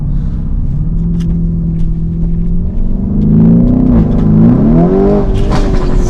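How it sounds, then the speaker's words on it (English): A Lamborghini Performante with its Akrapovic sports exhaust valve open, idling with a deep rumble before revving up loud and close, the engine note rising and wavering through several throttle blips. "So all Performantes come with this sports exhaust. Really? Open the valve, like you can hear it."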